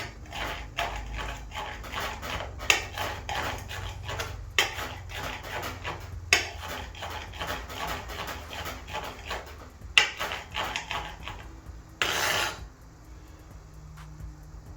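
A rocking knife chops jalapenos on a cutting board, giving a long run of quick, rhythmic close taps and clicks with brief pauses, then a short burst of rustling near the end.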